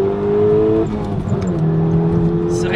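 The engine of a modified VW Golf 6 GTI pulls hard under acceleration from inside the car, a loud, steady drone with a shift partway through, and a voice briefly heard over it.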